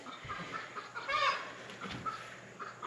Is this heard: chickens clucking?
yes